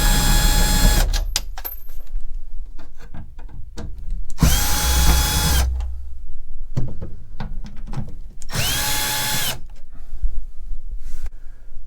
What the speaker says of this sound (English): We literally just got to now undo all these screws.